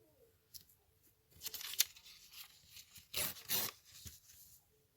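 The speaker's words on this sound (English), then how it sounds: "first I'm going to cut this little edge off here" Scissors snip the edge off a strip of paper for a junk journal, a few close, soft crisp cuts and rustles in a quiet room.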